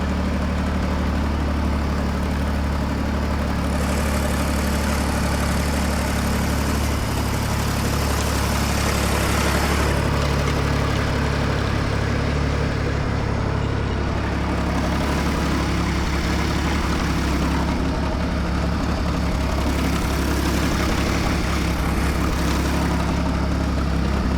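A John Deere 322 tractor engine idling close by, a loud, continuous low rumble that holds steady throughout with slight variations in tone.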